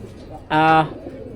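A single loud, clear coo from a loft pigeon in Mirpur rings out close for under half a second, with quieter background talk before and after.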